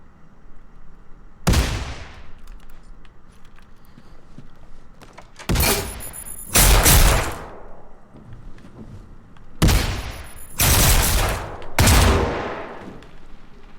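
Gunfire in the video game Generation Zero bursts out in loud, sharp volleys: a single crack, then a cluster of rapid shots, then two more rapid bursts, with quiet pauses between.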